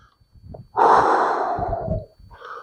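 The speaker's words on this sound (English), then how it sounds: "do use sound cues like breathing out, breathing in" A person gives a long, audible exhale as a calming cue during dog training, a breathy rush lasting about a second, preceded and followed by soft small sounds and quieter breaths.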